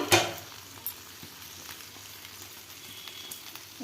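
Bhola fish fries in oil on a banana leaf over high heat, giving a soft, continuous sizzle with a sharp crackle at the start and occasional pops, no talking.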